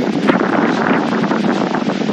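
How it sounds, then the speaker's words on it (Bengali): Strong wind roars against the microphone on a high mountain road between Kargil and Padum in Zanskar, a loud, constant, buffeting rush with no break. "যা হাওয়া দিচ্ছে"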